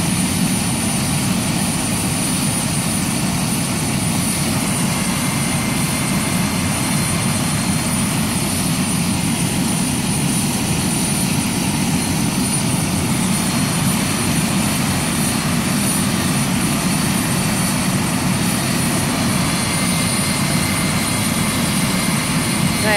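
A medical helicopter carrying a patient to hospital flies nearby, a loud continuous engine roar with a rhythmic rotor throb, steady throughout without speech.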